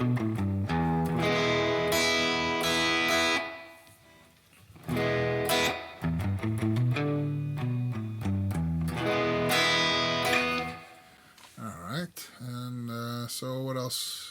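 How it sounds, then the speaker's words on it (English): Electric guitar chords and single-note runs through a Headrush Flex Prime spring reverb effect ring out with a splashy, echoing reverb tail, played alone in bursts with brief pauses between phrases. "Let's go with a spring reverb"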